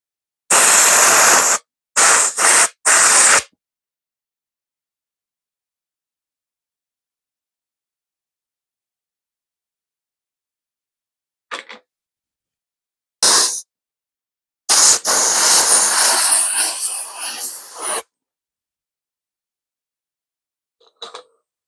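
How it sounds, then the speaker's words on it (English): Lube sprays onto parts of a 90s Rockhopper bicycle in several short hissing bursts separated by long silences, including one longer sustained spray near the end. "a little lube on there"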